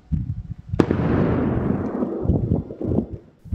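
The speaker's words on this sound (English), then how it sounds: "An explosion at the Givaudan plant that shook the Clifton neighborhood." A loud blast at the Givaudan chemical plant in the Clifton neighborhood, a sharp crack followed by a long rumbling roar that slowly fades, with scattered pops and bangs trailing off.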